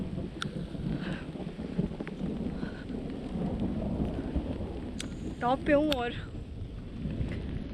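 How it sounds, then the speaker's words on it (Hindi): Steady rain on a mountain top in the Jhelum Valley of Azad Kashmir, a constant broadband hiss filling the whole stretch, with someone speaking briefly near the end over it. "बारिश स्टार्ट हो चुकी है।"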